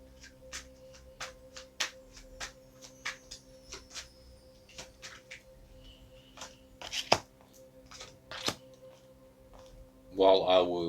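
Tarot cards are shuffled close by in a series of soft, irregular riffling and tapping sounds, followed by a brief burst of louder activity at the end.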